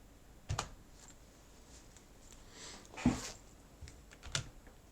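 Typing on a computer keyboard during a Raspberry Pi BBS setup, a few sparse, quiet clicks and key taps scattered over several seconds with faint hiss between them.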